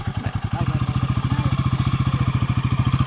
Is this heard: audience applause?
no